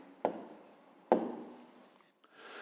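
Pen writing numbers on paper for a fifth-grade maths exercise: two quick scratchy strokes with soft rubbing between, close and quiet.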